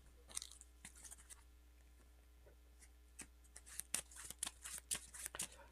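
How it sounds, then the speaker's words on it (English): Playing cards are shuffled into a deck at a tabletop card game, giving quiet, crisp riffling and tapping bursts that get busier toward the end, close up, with no talking. "And I shuffle these cards in."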